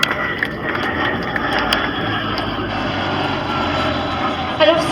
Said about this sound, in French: l'Atlantique 2 de la Marine nationale. On peut applaudir bien fort, mesdames et messieurs, ce bel avion.